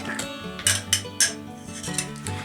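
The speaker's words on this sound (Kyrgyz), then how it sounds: "Азыр ушул йогурт менен ягодын эзилген аралаштырабыз" Yogurt and mashed berries are stirred together in a bowl, giving a few soft clinks and scrapes of a utensil against the dish.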